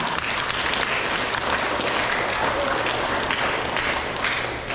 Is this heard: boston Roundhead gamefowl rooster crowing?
no